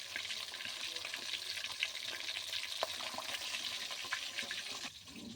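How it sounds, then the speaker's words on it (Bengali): Chicken fries in a pan at home in a steady, crackling sizzle with scattered pops and occasional stirring clatter, close up and continuous, with no talking. "এদিকে আমি চিকেনটা এখন ফ্রাই করে নিচ্ছি"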